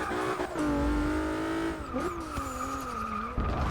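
An all-wheel-drive Ford Fiesta drifts in Forza Motorsport 6, its tires squealing in a long sustained skid while the engine revs and shifts pitch, loud and continuous with no voices.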